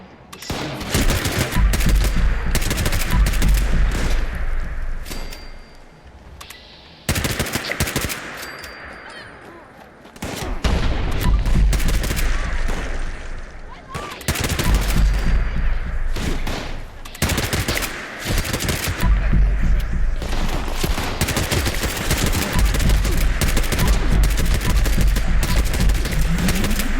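Gunfire rattles through a firefight in Fallout 76, loud repeated bursts and volleys crowding together, with brief lulls between salvos.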